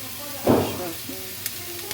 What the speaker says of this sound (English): Stir that all up in the iron skillet